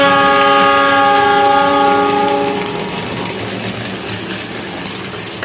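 A Thomas and Friends toy train runs on its track, starting with a loud, steady horn-like whistle tone for about two seconds, then fading into a continuous rolling rattle and clatter.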